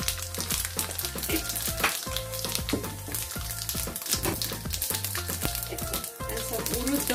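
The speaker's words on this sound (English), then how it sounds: "We're just going to put some mustard seed first. And some cumin seeds." Mustard and cumin seeds crackling in hot oil, a dense close sizzle with rapid popping and spitting throughout, loud and continuous with no voices.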